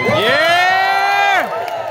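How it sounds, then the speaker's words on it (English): A rally crowd roars for the speaker's wife, with a loud sustained high-pitched whoop or cheer rising over the crowd noise, then dropping away into scattered cheering. "Let's give her a round of applause."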